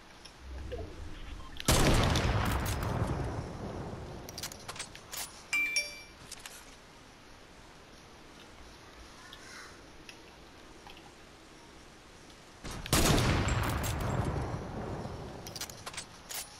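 Heavy sniper rifle shots in a video game, two loud booming blasts far apart that each ring out and fade, with faint clicks and movement sounds between them.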